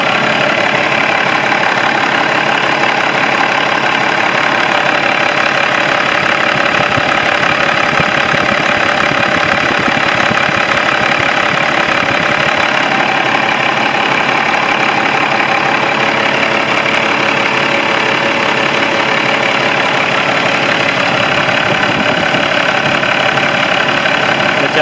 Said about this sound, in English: listen to that big Cummins motor for a second.